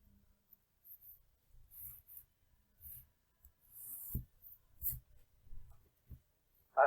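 Keyboard keys tapped at a computer, a scattering of soft clicks and short bursts of typing with pauses between, fairly quiet and close, no voices.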